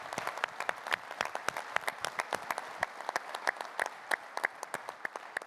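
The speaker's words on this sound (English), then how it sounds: "Please give her a round of applause." An audience at a PGA section award presentation gives sustained applause, a dense, steady patter of many hands clapping throughout, moderately close.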